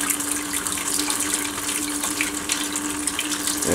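A sealed magnetic Tesla turbine generator with no bearings or shaft runs in water from a faucet, a steady loud gushing and splashing with a constant whining hum throughout.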